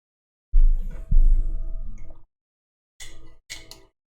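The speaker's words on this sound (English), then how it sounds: "This is the sound of hot chocolate being stirred" A spoon stirs hot chocolate in a cup, giving two stretches of scraping and clinking: a longer, fuller one, then a shorter, brighter pair after a pause, close to the microphone with no talking.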